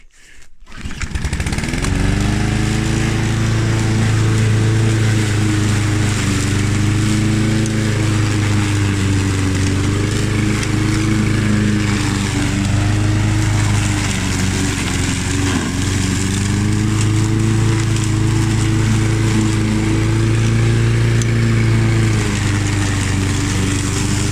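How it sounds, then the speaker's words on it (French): A lawn mower engine sputters to life in an autumn vegetable garden and then runs continuously at a steady, loud drone, close by, with no one talking. "je vais redémarrer un petit peu la bécane, la tondeuse"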